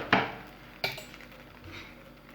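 A chicken cheese sandwich being flipped in a pan, with two sharp clinks of a utensil against the pan, followed by a faint sizzle.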